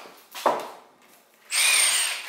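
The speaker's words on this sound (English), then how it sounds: "Power tools." A power tool whirs up loudly after a brief quieter stretch with a short knock, running steadily to the end.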